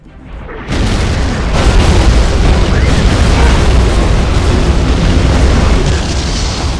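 Continuous roaring explosions rumble without pause, a dense barrage of booms from Scud Storm missiles in Command & Conquer: Generals Zero Hour filling the whole stretch.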